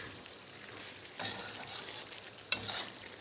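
Chicken varuval frying dry in a pan with red dry chilies, curry powder and chili powder, a soft steady sizzle with two louder bursts of stirring and scraping midway and near the end.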